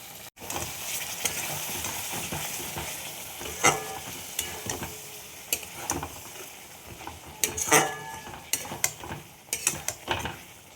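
Spices with cashew and magaj being stirred in a hot frying kadai for a katla kalia, sizzling continuously with repeated scraping and clinking of the spatula against the pan, close and fairly loud.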